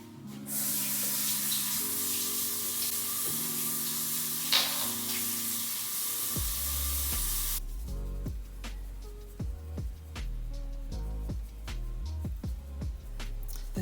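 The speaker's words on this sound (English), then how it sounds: "wash hands" Running water pours steadily into a kitchen sink as hands are washed after handling seasoning for adobo chicken thighs, a continuous hiss that gives way to clattering and splashing near the end.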